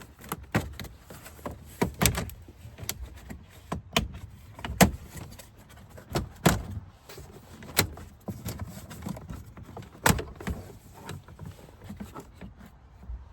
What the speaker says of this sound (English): Now with those bolts removed, I can just pop this lower panel off.